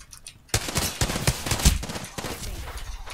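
Sustained automatic gunfire in Apex Legends, close and loud, starting abruptly after a brief quiet lead-in and continuing in rapid, slightly uneven bursts.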